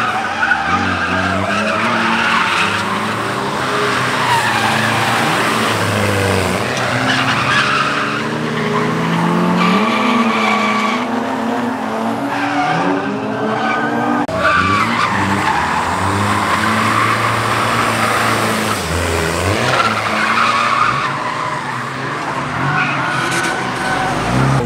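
A Nissan 350Z drifts through backwards entries, tyres skidding and squealing over a revving engine, loud and sustained throughout with brief surges and dips.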